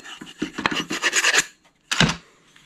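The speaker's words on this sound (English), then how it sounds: "you could just take a little sandpaper" Sandpaper rubbing along a wooden axe handle, a quick series of rasping strokes, then a pause and one more short scrape, close and clear with no talking.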